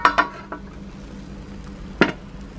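Metal pan set down on a stove beneath a pot of banana cake, a few sharp clanks and scrapes close by, one louder knock near the end.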